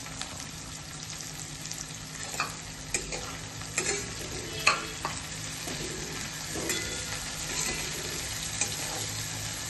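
Onion sautéing in oil for a cabbage-and-prawn dish makes a constant hissing sizzle. Scattered light clicks and scrapes from stirring come through now and then, with no voices.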